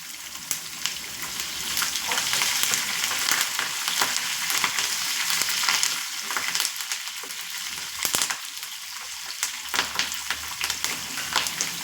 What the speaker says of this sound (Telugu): చిట్పట్లు ఆడుతుంది చూసారా